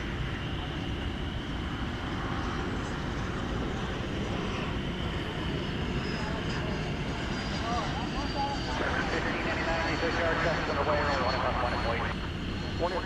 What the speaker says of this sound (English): There it is, Cathay Pacific. Being pushed back from Terminal D to begin its long flight back to Hong Kong.